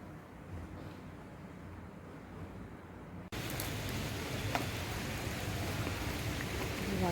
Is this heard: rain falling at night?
yes